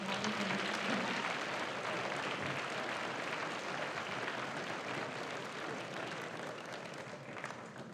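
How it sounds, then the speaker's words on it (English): A school assembly crowd gives a steady round of applause, dense clapping filling the hall and easing off slightly toward the end, with a faint voice near the start. "One more round of applause for yourself."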